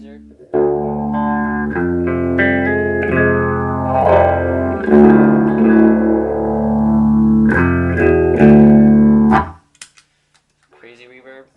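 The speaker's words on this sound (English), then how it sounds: "MXR phaser." An electric guitar runs through an MXR phaser pedal into a Mesa Dual Rectifier Roadster head, loud strummed chords swirling with a rising and falling sweep, then cutting out into brief quiet.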